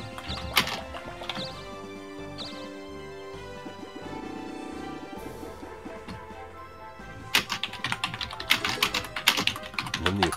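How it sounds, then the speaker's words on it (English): Computer keyboard keys clatter in quick, dense bursts at the start and again near the end, close and fairly loud, with softer game sounds filling the stretch between. "Attack of the keyboard begins."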